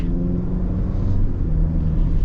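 A 2023 Chevy Colorado pickup with a 2.7 engine and 8-speed transmission pulls away from a start, giving a steady, loud low engine rumble heard from inside the cab with no talk.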